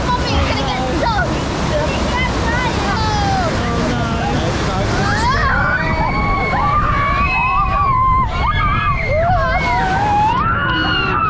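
Water splashes and sloshes loudly and continuously over riders on an Animal Kingdom water ride, with excited voices and shrieks mixed in throughout.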